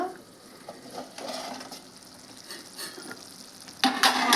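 Bitter gourd curry sizzles and crackles in a pan as the lid comes off, a steady close frying hiss with scattered pops and a louder burst of sizzle near the end.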